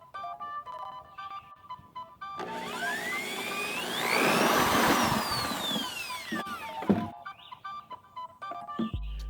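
A power drill boring a hole through a plastic chicken waterer to seat a rubber gasket, a steady whining drone of several seconds that rises in pitch mid-cut and then stops.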